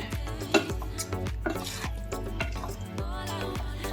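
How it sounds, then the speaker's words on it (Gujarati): Repeated scraping strokes of a spoon stirring chilli potato chips with tomato ketchup in a pan, an irregular rhythm of clinks and scrapes, close and fairly clear. "અને પાછું આ બધું જ મિક્સ કરી દેશું"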